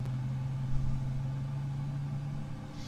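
Boeing 777 engine spooling up in Microsoft Flight Simulator 2024, a steady low drone holding at an even pitch, heard alone and fairly quiet throughout.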